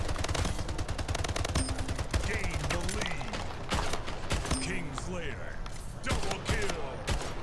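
Rapid gunfire rattles through a Splitgate match, with dense automatic bursts, sharp shots and game effects running almost nonstop. A player talks over the action.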